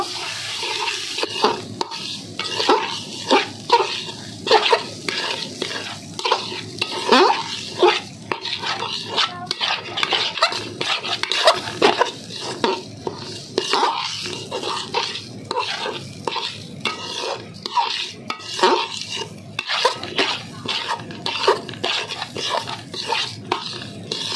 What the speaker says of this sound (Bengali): চালটাকে আমি প্রায় 5 থেকে 6 মিনিটের মতো ভালো করে ভেজে নিয়েছি